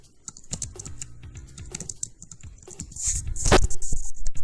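Keys clatter on a computer keyboard in quick, uneven bursts, close and fairly clear, with a louder flurry of strokes toward the end.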